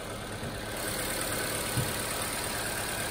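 A 2011 Subaru Forester with a 2.5 liter engine, automatic and all-wheel drive, 77,000 miles and front-end damage, idles with a steady, even hum throughout.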